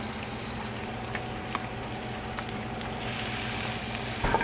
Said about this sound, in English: hear that nice sizzle going on. It's always a beautiful sound